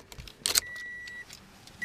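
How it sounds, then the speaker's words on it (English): A 2014 Toyota Corolla LE door chime sounds as a thin, steady electronic tone that holds for about half a second, stops, then starts again, preceded by a short clatter of handling noise inside the cabin. "And that exciting door chime."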